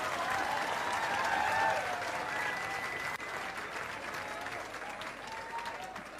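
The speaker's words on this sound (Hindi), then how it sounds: "जोरदार तालियां एक बार सर के लिए" Sustained audience applause fills a hall honoring a mentor at a birthday celebration, dense and steady clapping from a large crowd throughout, slightly dipping midway but continuing strongly to the end.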